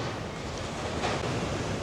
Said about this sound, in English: I was expecting the waves to be a lot higher than that